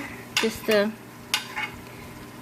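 Homemade meatballs frying in a pan after 40 minutes of cooking, being turned over with a utensil: a few sharp metallic scrapes and clinks against the pan over a faint, steady sizzle.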